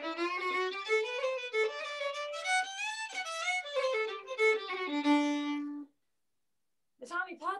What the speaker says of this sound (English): the tune I will play is called My Love is in America.